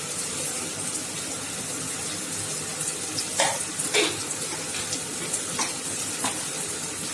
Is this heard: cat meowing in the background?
no